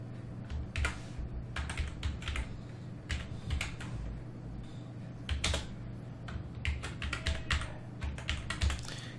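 Fingers type a name on a computer keyboard in quick, uneven bursts of close, crisp key clicks, pausing briefly between flurries, with no one speaking.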